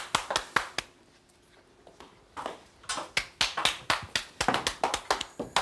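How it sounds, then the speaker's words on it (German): A studio audience at a Swiss television talk show claps in scattered, uneven bursts of distinct hand claps, pausing briefly before building into faster, denser clapping, close and fairly loud. "Klatscht doch nicht so laut klatschen."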